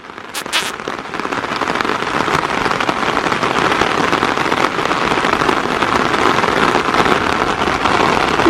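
A steady downpour of heavy monsoon rain roars close by, constant and loud, with a couple of sharp taps early on.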